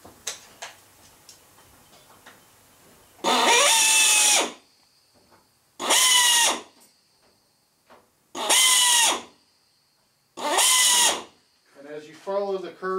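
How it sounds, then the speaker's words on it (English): A power drill bores through aluminum aircraft skin on an RV-10 vertical stabilizer in four loud, evenly spaced bursts of a few seconds each, with a high whine, and quiet pauses between them. "So let's get some drilling done."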